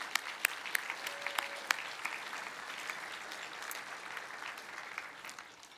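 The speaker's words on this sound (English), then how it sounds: "Please give yourselves a round of applause for all that we have accomplished together." Audience at the Mountaineers Adventure with Purpose Gala applauding, a dense sustained clapping of a large indoor crowd with a few sharp claps standing out, gradually fading at the end.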